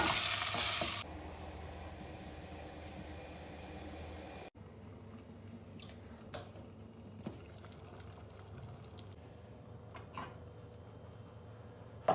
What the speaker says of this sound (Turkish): Bunlarla birazcık yumuşayana kadar kavuruyorum.